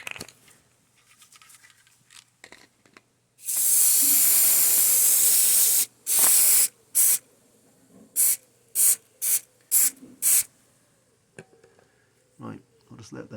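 CRC Gasket Remover Pro aerosol sprayed into a dirty carburettor bowl: one long loud hissing blast, then a series of short sharp bursts, with someone talking quietly at the start and end.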